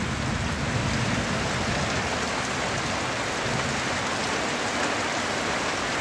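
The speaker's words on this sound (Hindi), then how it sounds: "लेकिन हमारे यहाँ आज बारिश हो रहा है पहली बार" Heavy rain pours steadily over a village, a dense, even hiss of downpour with no pauses and no voices.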